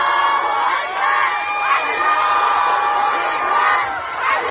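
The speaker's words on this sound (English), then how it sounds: "you can hear the clapping and cheering" A crowd of university students cheers and shouts together, a loud sustained roar of many voices with rising whoops, steady for several seconds before cutting off abruptly.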